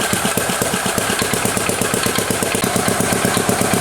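A transparent two- and four-stroke combustion engine with fully variable valve actuation, its intake valve closing early, runs loud and close with a steady, rapid, rough-edged firing rhythm and no talking.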